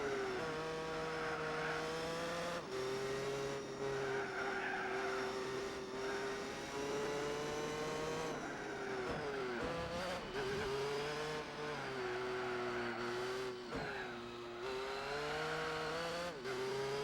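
Race car engine in Gran Turismo 4 holds a steady high drone on the track, its pitch sagging and climbing through gear changes and corners, loud and continuous with no talking.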